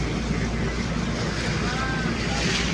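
Boat moving along a canal in Venice, with steady water wash and wind rumble throughout, loud and close, and a faint voice in the background.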